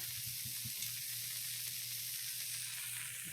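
Pancake batter sizzles steadily in butter in a pan, a close, even hiss that holds for the whole stretch with faint low crackles and no voices.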